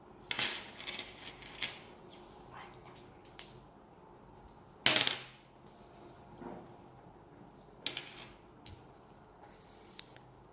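Six dice rolled for a board game about advancing a bicycle: scattered sharp clatters and ticks, with a loud burst of rattling around the middle and lighter knocks after it, close by with no voices.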